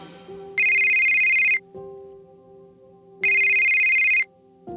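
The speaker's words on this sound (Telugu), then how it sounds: "ఆకాష్ భోజనం చేస్తూ ఉండగా అతని మొబైల్కి మీరా నుండి కాల్ వచ్చింది." A mobile phone ringtone for an incoming call rings loudly in two identical electronic bursts, each about a second long, separated by a pause with a low tonal hum, and no speech over it.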